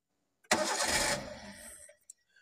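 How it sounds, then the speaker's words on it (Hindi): A Maruti Eeco car running on LPG cranks briefly and catches, a sudden loud burst of engine noise that settles and fades within about a second, followed by a couple of faint clicks. "तो कार के इंजन को पहले स्विच करता हूँ और इसको फिर स्टार्ट करता हूँ।"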